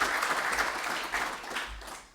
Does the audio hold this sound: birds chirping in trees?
no